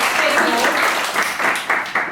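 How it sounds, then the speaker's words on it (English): Workshop participants at a training course applauding themselves, a short burst of close, loud clapping with rhythmic pulses as the group claps together, voices mixed in. "Just give yourselves a round of applause."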